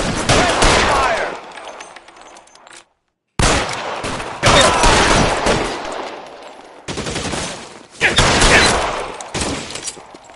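Gunfire from a shootout in the video game L.A. Noire, loud bursts of rapid shots and volleys that come in several waves with a short silent gap, near and dense.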